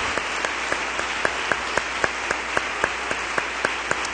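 A church congregation applauds in a sustained dense wash of clapping, with a steady rhythmic beat of synchronized claps running through the crowd noise.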